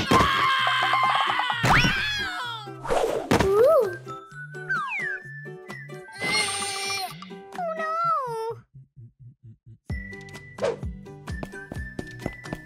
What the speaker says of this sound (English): Where is the scream coming from?